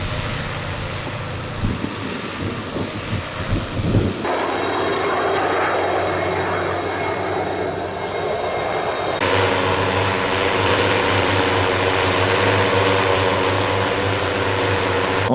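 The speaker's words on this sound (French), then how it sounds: "c'est le drone." An agricultural drone spraying vineyards gives a loud, steady whining rotor buzz, heard in several cuts with a shift in pitch and tone between them and no talk.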